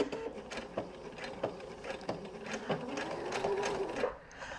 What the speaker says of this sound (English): Let's see if I can sew this slow.